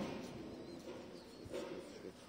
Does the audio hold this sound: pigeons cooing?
yes